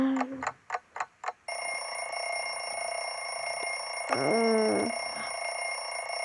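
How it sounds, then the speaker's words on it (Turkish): A few short beeps, then a steady electronic alarm rings continuously; a brief rising squeak interrupts partway through. "Of alarm. Yine alarm."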